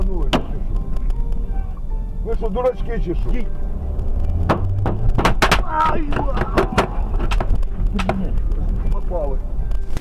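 Several sharp gunshots crack out in an irregular burst over a loud, rumbling background, with a voice speaking at moments between the shots.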